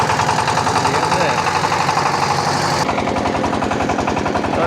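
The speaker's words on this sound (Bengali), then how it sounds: "বোট চালাইতেছি" A boat's engine runs steadily and loudly on the way to Sada Pathor near Sylhet, a close, rapid knocking drone with a slight shift in tone midway, wind-like noise over it.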